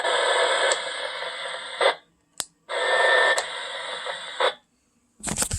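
A 2 m handheld transceiver receives a repeater, sending out two long bursts of harsh buzzing static-laden signal, each cut off abruptly, with a click between them and another burst starting at the end.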